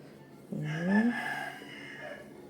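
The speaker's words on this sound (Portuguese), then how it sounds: "Olha o galo cantando." A rooster crows once, a rising then falling harmonic call lasting about a second, moderately close over a quiet indoor background.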